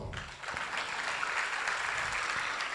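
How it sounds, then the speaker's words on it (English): Steady applause from a crowd of parents at a student awards event in Dubai fills the whole stretch, a dense wash of clapping with no pauses. "give me a round of applause"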